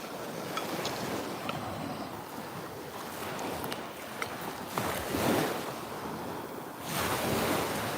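Waves washing ashore in a small private beach cove, a steady broad surf roar with swells rising and falling, wind buffeting the microphone throughout.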